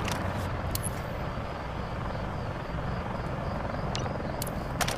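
A military helicopter in Call of Duty: Modern Warfare 3 drones with a steady, loud rotor thrum that fills the scene, with a few faint sharp clicks above it.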